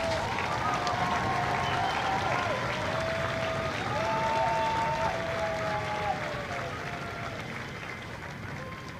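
Steady applause from a large crowd at a Marine Corps recruit graduation ceremony, a continuous wash of clapping that holds for several seconds and slowly tapers.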